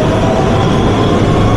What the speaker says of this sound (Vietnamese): Cái metro ở đây gọi là Manbet.